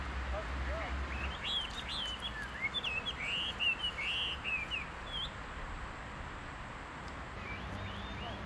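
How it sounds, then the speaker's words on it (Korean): Caged songbirds in a Beijing park trill and chirp in quick bright bursts of varied calls, moderately close, over a low outdoor murmur with faint voices in the background. "노인들이 가장 즐기는 취미 중에 하나도 공원에 새를 데리고 나와 새소리를 듣는 것이다."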